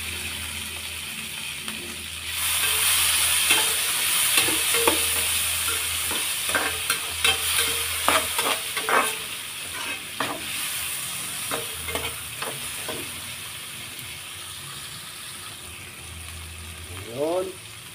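Chopped tomatoes frying in a pan as liver pieces cook alongside, stirred and mashed with a spatula, giving a steady close sizzle broken by repeated scraping strokes, with a voice speaking briefly near the end.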